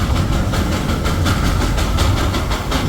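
Darjeeling toy train at Batasia Loop, heard close and loud as a continuous rumble with a faint rhythmic clatter of wheels on rails throughout.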